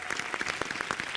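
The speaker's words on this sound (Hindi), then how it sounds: "जोरदार तालियों से स्वागत कीजिए साहित्य की दुनिया के महापंडित पद्मश्री डॉक्टर अशोक चक्रधर जी का" Audience applause welcoming a guest onto a Hindi poetry show stage: a brief, dense patter of many hands clapping together, moderately faint and continuous, with no voices over it.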